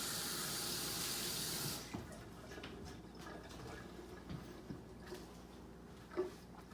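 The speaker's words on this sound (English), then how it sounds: "let me rinse my hands again" Hands rinsed under a running kitchen tap, a steady loud hiss of flowing water that cuts off abruptly, followed by quiet handling noises and small clatters nearby.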